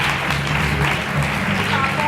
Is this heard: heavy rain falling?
no